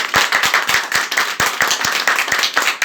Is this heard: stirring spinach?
no